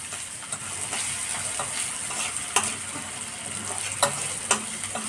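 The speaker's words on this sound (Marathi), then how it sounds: "तेलावर जरा हिरवी मिरचीचं वाटण टाकलं की आणखी टेस्ट चांगली येते" Green chili paste sizzling in hot oil while making eggplant bharit, a steady close frying hiss with a few sharp spatters and stirring clicks, no voices.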